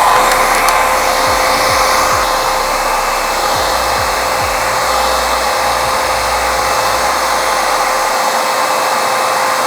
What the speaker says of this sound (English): the blow dryer that I'm using for this is my Blackbird Conair Pro